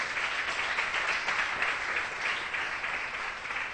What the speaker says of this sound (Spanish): ¿Cuánto le dan un fuerte aplauso a Dios por eso en esta mañana?